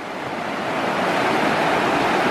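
Floodwater of the Ovens River at Harrietville rushes in winter, a loud, steady, broadband roar of fast-moving water that swells slightly and never lets up.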